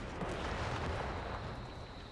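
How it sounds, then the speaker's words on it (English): A grenade blast in the Company of Heroes 3 strategy game rolls out as a dense, rumbling explosion that fills the whole moment with steady broadband noise, loud and alone. "Grenadier's going to eat half a grenade there."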